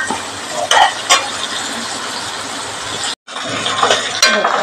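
Onions frying in a pan for a potato curry, a loud steady sizzle with a few clinks and scrapes of a spoon stirring, cut by a brief silence.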